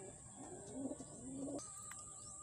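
Racing pigeon cooing as it arrives at the loft during a pooling race in Rizal and Bulacan, with soft repeated coos and light chirps close by over a low outdoor background hum.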